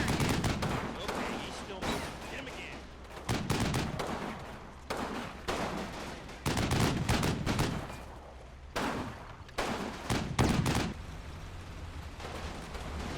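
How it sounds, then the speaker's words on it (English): Heavy machine gun fire from a team shooting at a half-track in the WWII strategy game Combat Mission: Battle for Normandy, loud repeated bursts and rattling volleys with brief gaps, continuing through the whole stretch. "here's my heavy machine gun team that were suppressed for a second. And they get some pretty good shots off on that half-track"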